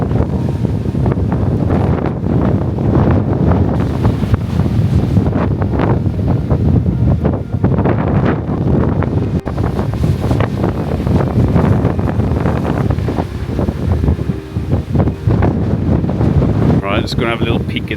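Ferocious wind buffets the microphone on an exposed hilltop during a storm, a loud, continuous roar and rumble that never lets up.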